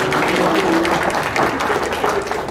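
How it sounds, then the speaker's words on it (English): An audience applauds a live game of Jenga, steady dense clapping throughout, close and fairly loud, with a few voices mixed in. "Yeah, I've never seen anybody clap for freaking Jenga."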